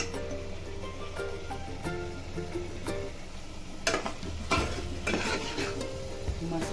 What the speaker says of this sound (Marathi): आपल्याला गरम मसाला टाकायचा अर्धा चमच आणि परतवून घ्यायचा